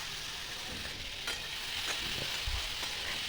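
Ridge gourd, tomato and green chilli frying in a pan, with soft continuous sizzling and a few light stirring scrapes and taps, quiet and close, no voices.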